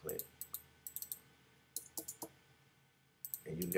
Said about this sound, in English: So now I just click, click